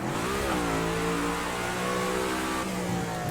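Engine revving in a racing video game, a steady high-pitched drone rising and dipping with throttle over a few seconds, loud and continuous with no talk.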